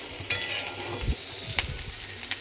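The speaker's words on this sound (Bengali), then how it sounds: "আমার উচ্চ ভাজা হয়ে গেছে আমার উচ্চ ভাজাটা নামাতে হবে" Bitter gourd frying in a pan gives a steady close sizzle, broken by a few light utensil scrapes and clicks.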